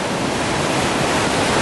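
Water rushes over a weir on the River Thames, a dense, loud, unbroken roar of tumbling flow heard up close and steady throughout.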